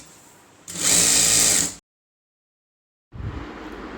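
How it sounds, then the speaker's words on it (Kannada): A sewing machine stitching an Aari work blouse gives one loud, close burst of about a second. It stops dead, then starts again more softly after a short silence. "ಈಗ ಇದನ್ನು ಹೊಳ್ಳಿಸಿ ಇದರ ತುಂಬಾ ಹೊಲಿಗೆ ಹಾಕೊಳ್ಳೋಣ."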